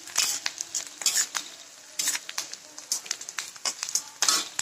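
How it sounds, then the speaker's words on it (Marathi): Chili pieces dropped into a hot pan for poha, with sizzling and repeated metal spoon scrapes and clanks against the pan in irregular bursts, close and fairly loud. "आता हे मिरचीचे तुकडे टाकायले"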